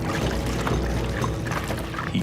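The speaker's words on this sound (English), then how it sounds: "He pours gas." Gasoline pours from a container in one steady, close, loud gush that lasts a couple of seconds, with no voices.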